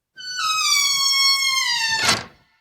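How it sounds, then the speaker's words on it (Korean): A barn door swings open with a long, high, slowly falling creak of the hinges that ends in a dull wooden thunk, close and clear with nothing else around it. "개동은 떨리는 손으로 헛간 문을 열었다."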